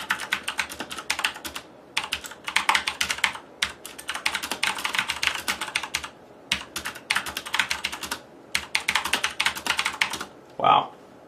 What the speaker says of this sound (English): see me at the keyboard typing